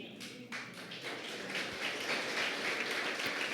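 Church congregation applauding during a Sunday sermon, a steady wash of many hands clapping at moderate distance, continuous and fairly even throughout with no voices over it.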